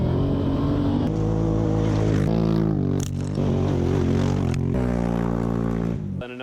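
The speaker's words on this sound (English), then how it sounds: "a quick little video showing some exhaust sounds and a bit of driving around" A diesel truck fitted with a power-driven diesel towing compound kit, heard from the cab while driving: a loud, steady exhaust drone with rising and falling engine tones as it accelerates and shifts, continuous throughout.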